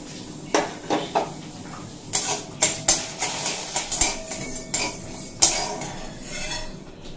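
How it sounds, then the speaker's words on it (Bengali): Gobindobhog rice dry-roasting in a hot wok, with a run of sharp metallic scrapes and clinks from a spatula against the pan, spaced irregularly, close and fairly loud over a low background hiss. "এটা শুকনো খোলায় ভেজে নেব"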